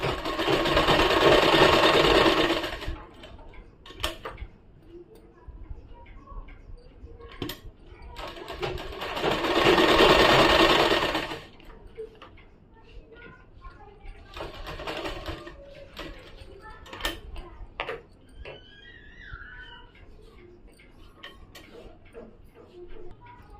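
A sewing machine stitches fabric for a salwar kameez. Two loud, whirring runs of stitching are separated by quieter ticks and handling clicks as the cloth is repositioned.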